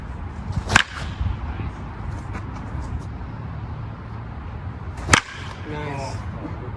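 Two sharp, loud cracks of a wooden baseball bat striking a ball, several seconds apart, over steady outdoor background noise with faint voices after the second hit.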